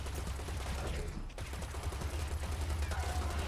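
Gunfire in Serious Sam 4, a dense stream of rapid shots rattling continuously and fairly faint, with a short dip midway before the firing resumes.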